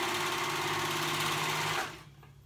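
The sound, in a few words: sewing machine sewing fabric ends together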